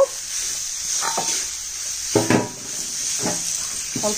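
Spiced tomato with cumin powder is stirred and fried in a pan, a soft background sizzle punctuated by several distinct metal spatula scrapes and clanks against the pot, close and irregular.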